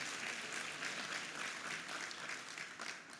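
An audience at a college football conference press luncheon claps in steady, dense applause from a moderately sized room, sustained and fairly soft for the whole stretch, without voices standing out.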